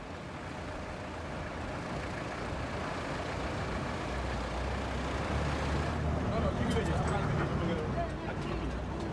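A Car Rapide minibus carries riders through Dakar in the early morning heading toward a city highway turnoff, its heavy engine rumbling steadily and swelling as traffic noise continues, with people talking over it throughout.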